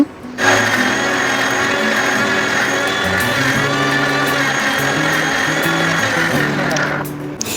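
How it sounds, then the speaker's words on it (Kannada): Kitchen blender grinding carrots with milk, sugar and cardamom pods, a loud continuous motor whir with shifting pitch running steadily for several seconds before cutting off. "ಈಗ ಇದನ್ನ ನೀಟಾಗಿ ಬ್ಲೆಂಡ್ ಮಾಡಿ ತಗೊಳ್ಳೋಣ."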